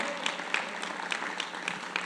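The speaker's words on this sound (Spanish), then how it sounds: "Entonces, un aplauso a Dios" Congregation applauding in church, a steady wash of clapping with regular sharper claps, moderately faint and without talk.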